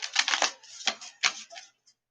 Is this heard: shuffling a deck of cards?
yes